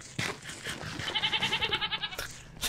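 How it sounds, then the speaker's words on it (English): Goats in a Minecraft modpack game let out a run of quavering bleats that overlap and waver for about a second and a half, close and fairly loud, framed by a few soft game noises. "Look at all these goats."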